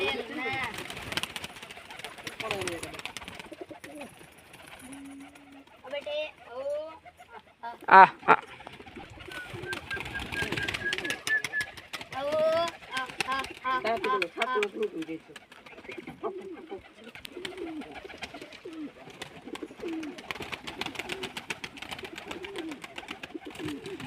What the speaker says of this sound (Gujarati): મિત્રો બધા કબૂતર બાયણે આવી ગયા છે